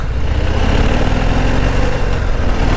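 A Harley-Davidson Heritage 114 motorcycle engine runs steadily up close, a loud, continuous low rumble with no talking.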